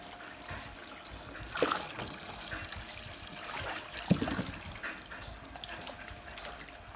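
Water sloshes and trickles as cassava is rinsed in a filled basin while being made into lanting in Purworejo, with a steady close splashing and dribbling and a couple of louder splashes.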